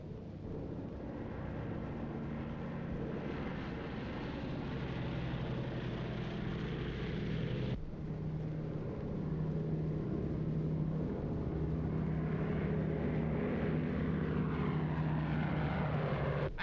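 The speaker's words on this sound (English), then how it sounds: "Just before we take off, Norton, my co-pilot, tests the motors while I take a look at the instruments and controls" Propeller engines on a 1936 airliner run up before takeoff with a steady, loud droning roar that holds throughout, shifting slightly in pitch partway through. No voices.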